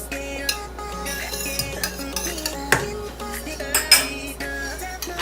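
Butter being mixed into a thick batter in a bowl, with soft repeated scraping and clinking of a utensil against the bowl, close and fairly quiet, no talking.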